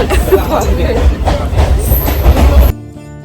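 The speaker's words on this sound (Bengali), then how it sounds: "রামপুরহাট স্টেশন থেকে একটা লোকাল ট্রেনে উঠে আমরা যাচ্ছি বোলপুর।" A local train running between Rampurhat and Bolpur, heard from inside as a loud, steady rumble with rattling clatter and wheel noise, cut off sharply near the end.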